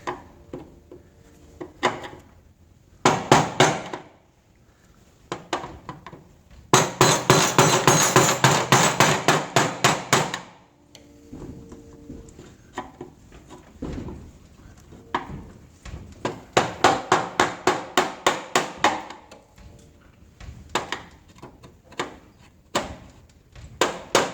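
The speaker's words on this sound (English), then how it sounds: "I usually use a screwdriver, a flat screwdriver, and a hammer." Sharp metallic hammer blows on a flat screwdriver, working on the fuel pump of a 1988–98 GM full-size truck, coming in fast rhythmic bursts of repeated strikes with short pauses between, loud and close.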